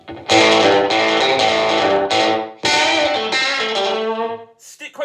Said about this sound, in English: And now this is on full volume with the echo pedal.